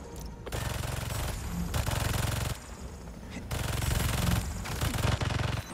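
Gun turrets firing in the Spider-Man 2 video game, loud sustained rapid-fire bursts broken by short pauses, dense and close over game ambience.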